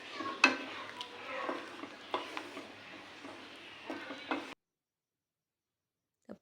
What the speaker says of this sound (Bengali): এবারে আমি যে কাজু, পোস্ত আর তিলটা বেটে রেখেছিলাম সেটার মধ্যে দিয়ে দেবো। দিয়ে একটু ফুটিয়ে নেব ভালো করে।